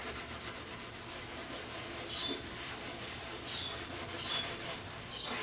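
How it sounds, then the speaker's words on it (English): A cloth wipes excess finish off wooden boards of a Christmas tree planter box, giving a steady, continuous rubbing swish that stays close and even throughout. "so all we do is wipe the excess off"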